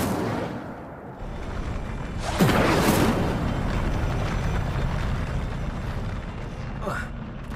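A fire spell cast in Hogwarts Legacy: a sudden broadband whooshing burst of flame about two seconds in, then sustained rumbling crackle over a steady game background, with a short flare near the end.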